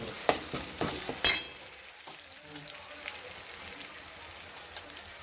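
Chopped pav bhaji vegetables sautéing in a pan, with a few sharp spatula clacks at the start, then a soft, steady sizzle and crackle at close range, no talking.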